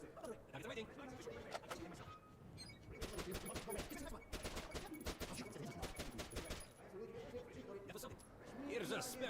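Gunfire at a shooting range in the video game Metro Last Light Redux, with repeated sharp shots and bursts in dense clusters under a game soundscape while someone talks over it.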